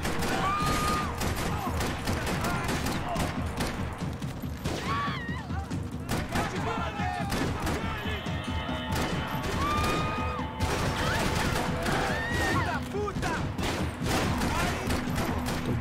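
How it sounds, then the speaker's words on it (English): Blind-fire shooting in Max Payne 3 crackles as a dense, continuous fusillade of gunshots and impacts, with game characters talking over the chaotic firefight throughout. "Το blind fire τα σπάει σε αυτό το παιχνίδι."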